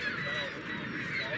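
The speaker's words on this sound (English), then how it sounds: "If I pause, I think you'll be able to hear the cacophony of seagulls." Gulls call in a noisy, overlapping cacophony at sunrise over the falls, a steady wash of honking cries heard at moderate distance with no clear gaps.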